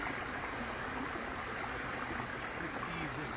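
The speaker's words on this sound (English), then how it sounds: "Let's ease this out of this waterfall sound here." A waterfall sound effect gives a steady, close rushing of falling water, a broad hiss with a low churning beneath it that stays fairly even across the short stretch.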